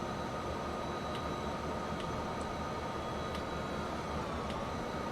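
A train rolls steadily through the Marias Pass route in the video game Transport Fever 2, giving a constant broadband rumble with faint periodic clicks from the wheels, and no voices are heard.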